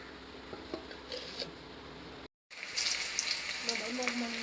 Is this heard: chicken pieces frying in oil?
yes